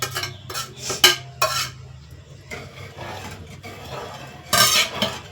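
Rice with coriander leaves being stirred in a pressure cooker pot: a few spaced scraping strokes of a utensil against the metal, close and clear, with no talking.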